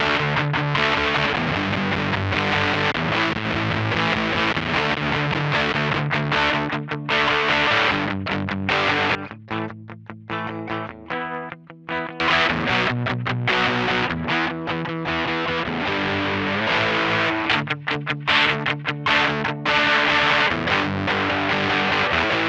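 Electric guitar played through a Nembrini Audio Black Rat distortion pedal plugin, loud saturated chords and riffs running continuously with a brief sparser passage in the middle, no talk.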